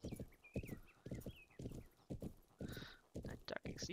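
Horse hooves clip-clop in a steady galloping rhythm while riding in the video game Planet Horse, close and clear, with a whinny and brief high chirps over the beats.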